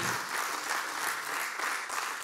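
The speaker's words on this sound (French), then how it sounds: "On peut les applaudir." A short burst of audience applause at a talk on African women's leadership, with steady, even clapping throughout.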